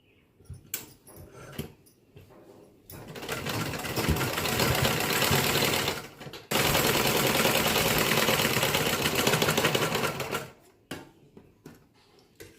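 A sewing machine stitches a blouse in two long, loud, steady runs split by a brief break, with softer handling sounds before and after the runs.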